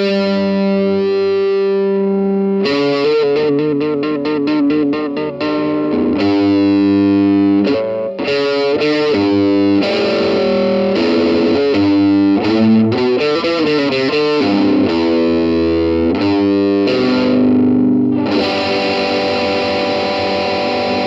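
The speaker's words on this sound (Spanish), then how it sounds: "Ahora chequemos cómo suena la voz del Overdrive 2" Electric guitar played through the Overdrive 2 channel of a Blackstar Dept. 10 Dual Distortion pedal, sustained chords and quick rhythmic riffs with a thick, saturated distorted tone, loud and continuous with no talking.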